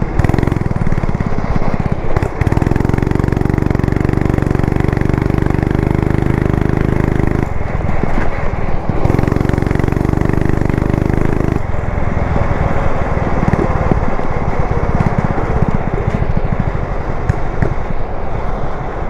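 A small 270cc engine on a motorized beer-crate vehicle runs loudly and steadily close to the mic, its drone dropping out briefly twice, with wind rushing over it throughout.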